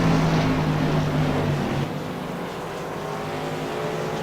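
CRA modified race cars at Thompson Speedway roaring past, a loud engine drone with a falling pitch as they pass, then settling into a steadier, slightly quieter mechanical roar.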